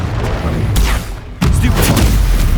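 Explosive spell blasts from combat in the video game Hogwarts Legacy: two booming bursts about a second apart, loud and dense, with noisy rumbling tails between them.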